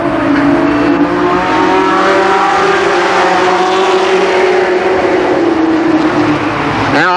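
Race cars roar down the backstretch at Columbus Motor Speedway, a loud, sustained engine drone with shifting pitch as the cars run side by side close to the listener, rising sharply at the very end.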